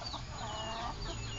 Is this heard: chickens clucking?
yes